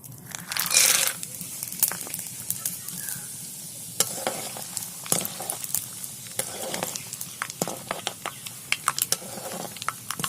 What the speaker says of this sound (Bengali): এবার তেলে এই কাঁচা চিনে বাদামগুলো দিয়ে দেবো